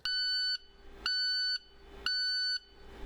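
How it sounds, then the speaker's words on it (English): Three evenly spaced electronic alarm beeps from an International school bus warning of a full exhaust filter, each a high steady tone lasting about half a second, with short gaps between them and no voices. "If the DPF light is flashing with a beeping alarm"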